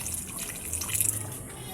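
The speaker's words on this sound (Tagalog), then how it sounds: "Magdagdag lang tayo ng tubig para sa ating karne, yung palambot." Water is poured into a cooking pot of pork ribs and mung beans, a close bubbling, splashing stream that swells midway through the pour.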